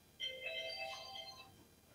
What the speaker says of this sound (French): Il faut changer cette sonnerie parce que ça sent comme la sonnerie spéciale de mon épouse.